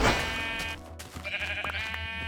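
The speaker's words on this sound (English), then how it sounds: "There's more sheep. I gotta snipe them." A sheep bleats in the Minecraft video game, a short wavering cry heard at moderate volume over a steady background tone.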